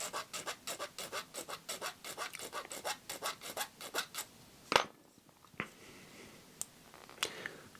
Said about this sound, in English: I'm going to file it off.